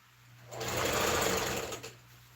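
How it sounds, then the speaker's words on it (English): A sewing machine running a single continuous burst of about a second and a half, close and loud, with the needle pounding rapidly while it stitches loosely, then stopping abruptly. "Why is this thing not sewing well? This thing is not sewing well."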